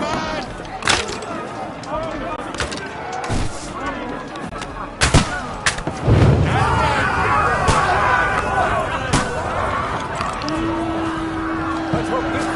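Soldiers firing weapons during a battle in Kingdom Come: Deliverance 2: loud irregular gunshots cracking out, some close and heavy, amid shouting voices and the clamor of combat.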